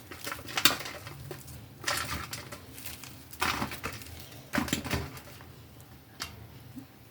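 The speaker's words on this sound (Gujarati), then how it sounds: "તળાઈ ગયા બાદ તેને આપણે ભૂકો કરી દઈશું." Fried churma dough pieces are broken up on a plate for Gujarati jaggery churma ladoo, making quiet, irregular bursts of crunching and scraping against the plate with pauses between, and no talking.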